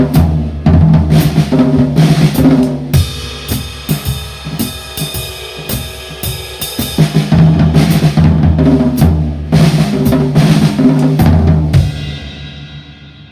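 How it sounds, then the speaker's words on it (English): Drum set playing five-stroke rolls in a swung style, with rolls starting off the quarter note amid snare, kick and ringing cymbals, close, loud and steady, with no voices. "Still all 5-stroke rolls, but he wouldn't start them all right on the quarter note."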